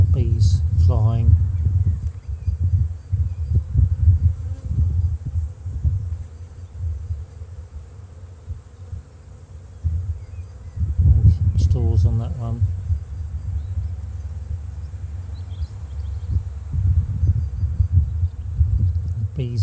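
Honeybees flying around an overwintered Bluebell hive, a low steady buzzing hum that runs throughout beneath someone talking close by, with brief louder bursts of activity.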